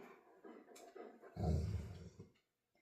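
Dogs indoors snort and make low grumbling vocal noises close by, with a louder, throaty burst partway through before it all fades to quiet.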